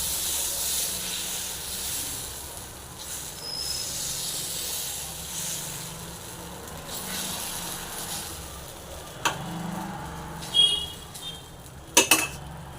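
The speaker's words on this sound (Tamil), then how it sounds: "அப்படியே இப்போ தோசை விட்டுலாம்" Mudakathan herbal dosa batter cooks on a hot griddle without oil, giving a soft, continuous hiss and steam with faint crackle; a few sharp utensil and pan clinks ring out near the end.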